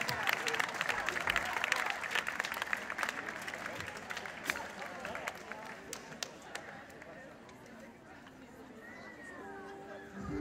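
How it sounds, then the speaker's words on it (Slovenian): Audience applause at a Slovenian Armed Forces band concert, a dense burst of clapping that peaks early and then thins out and fades over the following seconds, with some crowd noise mixed in. "En aplavz za naše sestre."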